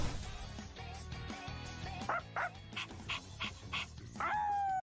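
Koromaru, a dog character in a video game, gives a run of short yips and barks with whimpering tones over game music, the barks coming in quick separated bursts before a sustained final tone.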